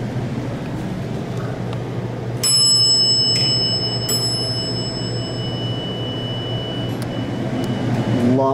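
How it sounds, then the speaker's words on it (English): A Dover hydraulic elevator chime rings out clearly in two bright, ringing tones a couple of seconds apart over a steady low machine hum. "Love that chime."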